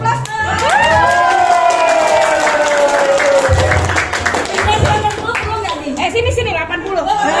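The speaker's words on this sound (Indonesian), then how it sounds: "Mungkin seperti itu kalau kasih aplaus." An audience at a school best-practice sharing session at SMAN 9 Balikpapan cheers, whoops and claps loudly, with shrill voices rising over a continuous crowd roar.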